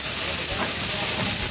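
Ginger garlic paste hits hot oil and onions in a dhaba-style kitchen, giving a loud, continuous, dense sizzle and hiss that stays steady and close throughout.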